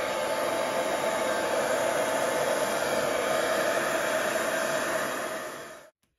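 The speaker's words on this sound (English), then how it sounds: "I'll blow it out with the hairdryer till it's covered and even" A hairdryer blows across acrylic pour paint with a loud, steady whooshing roar for about six seconds, then cuts off abruptly.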